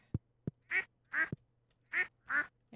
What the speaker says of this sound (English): Go help our duckies out, or take care of them.